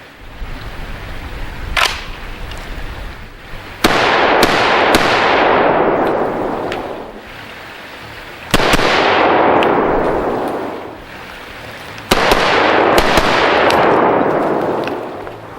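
A Century Arms C308 rifle fires outdoors with four loud, sharp reports spaced a few seconds apart, each followed by a long rolling echo that fades slowly.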